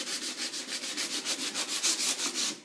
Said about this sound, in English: So you're literally sanding back down to the wood.